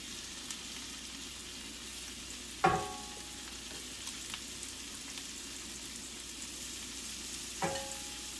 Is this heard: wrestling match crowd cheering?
no